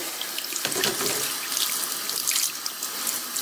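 Running tap water pours steadily over cooked spiralized vegetable noodles being rinsed in a sink, a continuous close hiss and splash with no talk.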